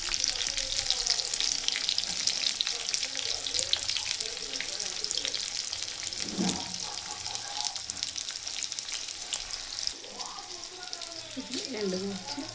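Oil sizzling and crackling steadily in a pan as mustard seeds, cumin and crushed garlic fry for a lentil curry, with occasional stirring scrapes and brief water splashes.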